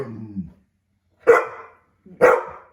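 A dog gives two sharp, loud barks about a second apart, preceded by a short low grumble, close by with silence between.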